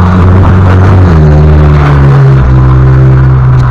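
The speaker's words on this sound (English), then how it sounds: "It's a loud piecer. The guy just will not get an exhaust." A loud car with no exhaust passes near a yard, its engine blaring with a deep, droning rumble that shifts pitch as it goes by, filling the whole clip.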